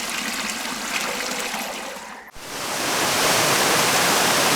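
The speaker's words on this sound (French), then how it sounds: "voici peut-être la raison que le lac se vide. C'est tout simplement que l'eau est évacuée." Water released from the St-Ferréol lake rushes out in a steady, loud broadband roar, briefly dipping for a moment before swelling back to a full, continuous torrent.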